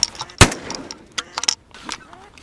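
One sharp, loud shotgun blast cracks early on during a spring goose hunt, followed by scattered clicks and clatter nearby.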